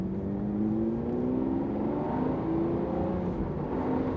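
Lamborghini Aventador Ultimae V12 engine running hard, a smooth sustained roar with rising and falling tones as it revs, steady and loud with no voices.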